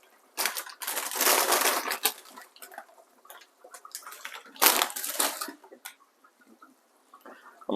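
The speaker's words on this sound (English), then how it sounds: "now I'm gonna add some water crackers" Water crackers crunch and crackle as they are broken into a pot of Jamaican curry fish with okra and scallions, two loud bursts of crushing, close and dry, separated by quieter rustling and small knocks.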